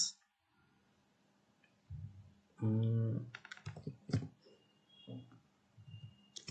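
Keys tapped on a computer keyboard while a prompt is written to ChatGPT, a quick uneven run of close clicks with a brief denser burst, heard alone in a quiet room.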